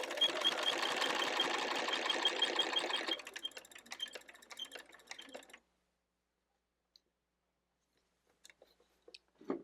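A sewing machine stitches quilt binding in a fast, even, close-up run of needle clatter for about three seconds. It slows into short bursts and then stops, leaving near silence with a few small clicks.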